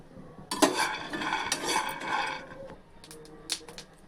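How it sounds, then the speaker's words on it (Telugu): Peanuts roasting in a pan while being stirred, with close, moderate clattering and scraping in uneven bursts, then a few sharper clinks near the end. "ఇప్పుడు ప్యాన్ వెలిగించుకొని బాండిల్ పెట్టుకొని ముందు పల్లీల చట్నీ చేసుకుందామండి. పల్లీలు వేయించుకుందాం."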